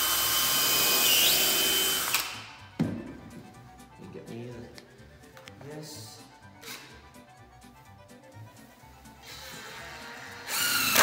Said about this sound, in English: let's put a screw in there before we do anything else